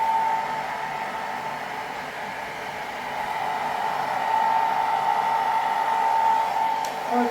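A simple handheld blow dryer drying hair at home, blowing a steady loud whoosh with a high whine that holds almost unchanged for the whole stretch, with no talking.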